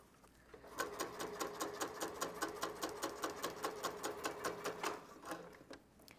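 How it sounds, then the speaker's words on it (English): A sewing machine stitching fabric for a phone case at slow speed, a rapid, even mechanical chatter of needle strokes running steadily for several seconds, close and fairly quiet. "You can slow your machine down like I've done. You can tell that it's going pretty slow."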